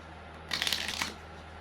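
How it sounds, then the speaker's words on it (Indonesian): A quick riffle of playing cards, a brisk crisp burst of about half a second against a quiet background. "Kita kocok dulu kartunya ya"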